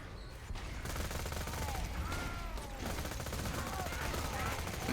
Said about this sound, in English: this is just like a ricochet hell, so I can just stand back. Yeah, it's just ricocheting all over the place.